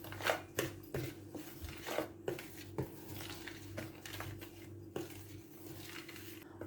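Cookie dough ingredients, including brown sugar, vanilla and baking powder, stirred in a bowl: quiet repeated scraping and light clinks of a spoon in a steady rhythm, close up, with no talk.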